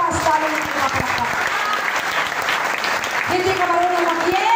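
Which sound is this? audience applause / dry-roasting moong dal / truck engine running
audience applause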